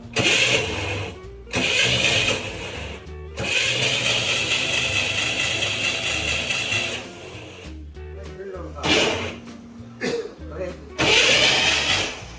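A 60-year-old Corvair engine that has sat unrun for five years is turned over in repeated bursts of cranking, loud and close, separated by short pauses, with voices talking nearby.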